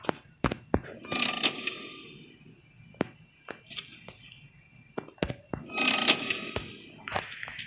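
A big lever starts the ink machine in a Minecraft Bendy mod, bringing a string of sharp mechanical clanks and ratcheting creaks with two longer bursts of hissing, grinding machinery. It is fairly close, with no talk.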